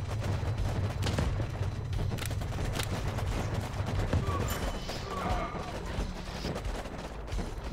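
Turret gunfire in the strategy game Warpips keeps up a dense, continuous rattle of rapid shots for the whole stretch, with a busy battle din underneath.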